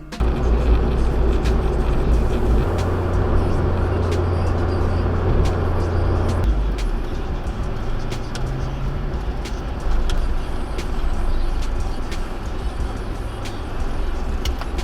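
A car on the road heard from inside the cabin, a continuous low engine and tyre rumble with the drone shifting pitch partway through as it changes speed, and faint clicks over the top.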